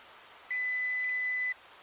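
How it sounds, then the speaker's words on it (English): One steady electronic beep, about a second long, from a Ruko F11 Pro 2 drone controller after losing connection, over faint background hiss. "It's beeping like crazy."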